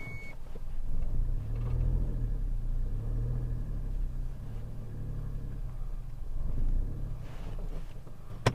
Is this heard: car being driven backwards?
yes